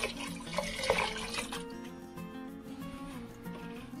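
Tap water pours into a cooking pot during a Christmas seafood rice dish preparation, a loud splashing rush that settles into a steadier, fuller running stream as the pot fills.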